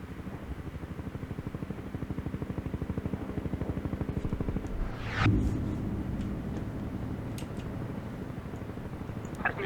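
Helicopters in the war strategy game World in Conflict thrum with a steady rapid rotor chop, mid-distance and fairly soft, with a whooshing sweep passing by partway through and faint game effects, no talk.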